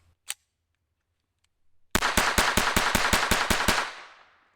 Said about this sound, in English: the first time that I've been able to run an entire mag through this gun without having it jam up or malfunction